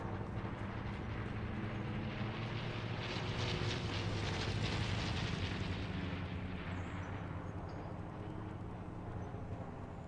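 Airplanes roaring overhead in Fortnite, a steady loud drone that swells in the middle and fades slightly, continuous for ten seconds with no talk.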